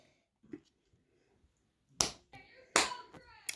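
Two sharp hand claps from a girl mixing slime at home, close and distinct, each followed by a brief rustle, with a faint tap earlier in an otherwise quiet room.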